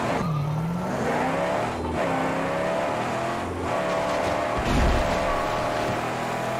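In the Mad Max video game, a car fitted with the ultimate V6 engine accelerates loudly, its engine pitch rising and dropping through repeated gear shifts, with brief bursts of rumble between them.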